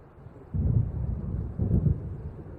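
Thunder from an approaching storm in the Alan Wake Remastered video game rolls in two deep rumbling swells, fairly loud and low, with no talk over it.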